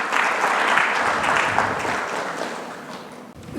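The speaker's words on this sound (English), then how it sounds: "Can we have a huge round of applause for both of them" Loud, dense applause from a corporate presentation audience, a continuous roar of many hands clapping close by that carries on steadily and fades slightly at the end.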